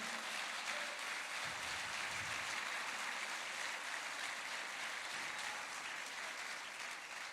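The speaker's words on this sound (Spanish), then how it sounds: "Le da un aplauso al Señor." A church congregation applauds together in a dense, steady wash of clapping that fills the room and holds evenly from start to finish, with no talk above it.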